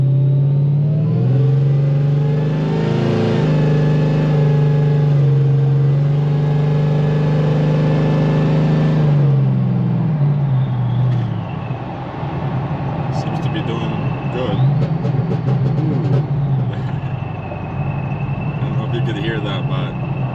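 A 7.3L Godzilla-swapped Whipple-supercharged Crown Vic roars loud and close, its engine note holding steady before dropping as it downshifts, then rumbling on with scattered clicks.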